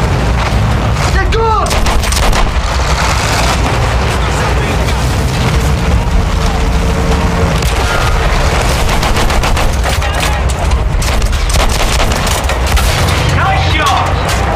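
Field guns and dense gunfire in the video game Battlefield 1, a continuous barrage of booming artillery and rattling shots layered under shouted voices, loud and relentless throughout.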